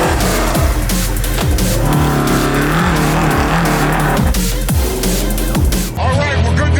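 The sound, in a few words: prerunner truck engine revving on a dirt test lap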